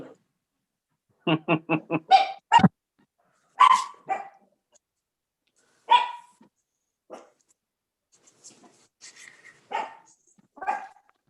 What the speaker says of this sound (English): Sounds like a vicious, vicious dog.